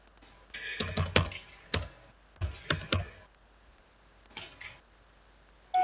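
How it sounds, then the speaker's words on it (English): Computer keyboard typing in short bursts of quick clicks, with pauses between groups of keystrokes while entering numeric values, close and fairly clear with no talking. "as you type these in"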